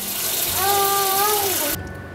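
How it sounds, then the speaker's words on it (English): Cold water runs from a kitchen tap into a pot of cut potatoes, a steady close rushing pour with a rising tonal ring as the pot fills, cutting off abruptly near the end. "Now you're gonna fill it up with some cold water."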